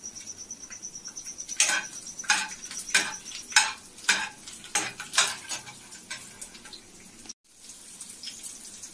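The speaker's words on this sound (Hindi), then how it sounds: "लहसुन और हरी मिर्चा से छौंके गए" Garlic and green chillies fry in hot oil as a tempering, a steady sizzle with a metal spoon stirring and scraping the pan in repeated loud strokes, close by.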